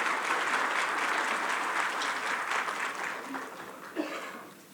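A room full of people applauds steadily, dense clapping that gradually thins and fades out toward the end.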